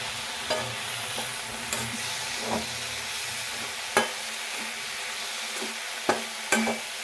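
Mango paste, sugar and coconut are stirred in a hot pan, making a continuous soft sizzle with repeated scraping strokes of a spoon and occasional sharper taps against the pan, close and steady with no talking.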